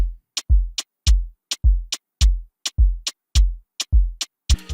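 A punchy Afrobeat drum loop with deep booming Haitian kicks and sharp Haitian rim clicks in a steady, syncopated groove, loud and close, with no voices.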